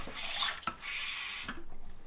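Water from a tap runs into a pot of rinsed rice, a short close hiss with a clunk partway through, ending in a few faint drips with no talking.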